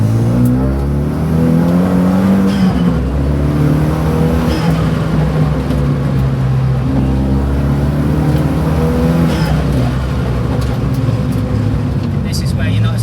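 Renault Megane RS track car driving hard on a circuit, a steady loud engine drone with rising and falling revs throughout, and someone talking over it.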